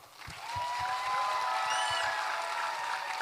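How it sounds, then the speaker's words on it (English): Church concert audience applauding after a performance, a steady wash of clapping sustained throughout with faint tonal music or voices mixed in underneath. "So now let us give them another big round of applause."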